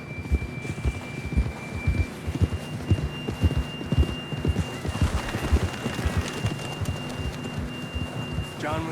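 Hooves of a horse ridden in Red Dead Redemption 2 pound in a steady galloping rhythm close by, with game music and ambience running underneath throughout.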